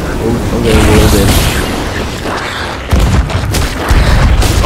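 Cannon fire in the pirate video game Sea of Thieves during a Kraken fight, loud booming blasts around three and four seconds over dense, chaotic game noise and overlapping voices.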